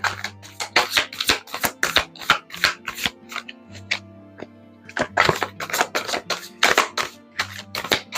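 Tarot cards being shuffled by hand nearby, with quick flurries of crisp riffling and snapping, pausing briefly midway before resuming, over a faint low hum.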